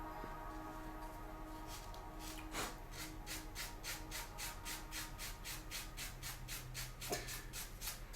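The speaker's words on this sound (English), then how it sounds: "Yeah, I wanna sand these before I connect them." Plastic Gunpla model kit parts, from a Master Grade FAZZ and Jesta build, sanded by hand in a steady series of short rhythmic rasping strokes, close and fairly quiet, with no talking.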